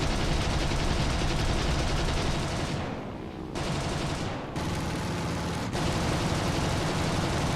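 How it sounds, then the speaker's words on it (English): MG-FF cannons and MG-151 guns on a World War II aircraft in War Thunder, roaring in long continuous bursts of rapid fire, dense and loud, with a couple of short pauses between volleys. "They actually sound like they're firing at a good rate of fire. And the MG-FFs and MG-151s both sound good as well."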